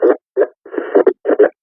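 Radio traffic comes through a Motorola XTL5000 desktop radio, a few short bursts of clipped, band-limited voice transmission separated by brief silences, close and fairly loud.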